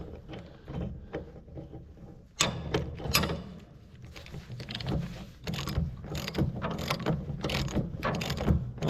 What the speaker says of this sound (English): You gotta stick the pry bar underneath the rotor and just kind of pry up and down on it